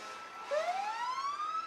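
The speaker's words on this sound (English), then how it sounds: "As this parade of fire engines continues to make its way by our location" A fire engine siren wails in a Fourth of July firemen's parade, its pitch sweeping steadily upward from a sudden start, loud and close over the murmur of the street crowd.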